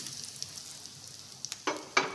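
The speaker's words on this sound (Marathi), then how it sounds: "त्यानंतर जिरं, मोहरी आणि सोप हे सर्व आपल्याला यात टाकायचं आहे आणि हा जो तडका आहे बंद करायचा आहे आणि हा यामध्ये सोडायचा आहे" Hot oil tempered with cumin, mustard seeds and fennel is poured into mashed eggplant bharit, a faint low crackle breaking into short sharp sizzling bursts near the end.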